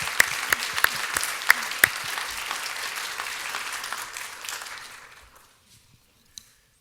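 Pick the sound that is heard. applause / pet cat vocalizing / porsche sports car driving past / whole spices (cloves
applause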